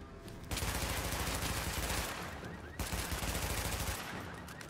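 Dense, steady automatic fire from The Division rattles on continuously with a brief gap, sounding like sustained weapon bursts in the shooter game.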